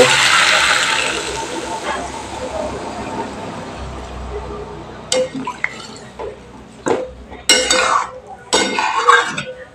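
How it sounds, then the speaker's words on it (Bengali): Water added to a simmering Bengali dhokar dalna curry in a pan gives a hissing, splashing sizzle that fades, followed by several sharp clinks and scrapes of a utensil against the pan, close and without talk. "এবার এর মধ্যে আমি সামান্য জল দিব"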